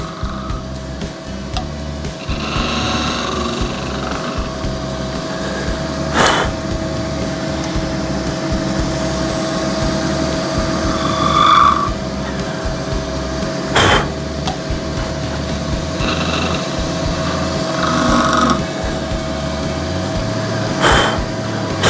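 A skew chisel turns an epoxy resin shaving brush handle on a lathe, giving a continuous loud whirring hum with rasping scrapes and a few sharp bursts, alone without talk.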